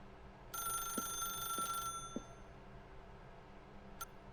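A telephone rings in the video game The Stanley Parable, a faint, brief electronic ring near the start with a few soft ticks and a later short ding, no talking.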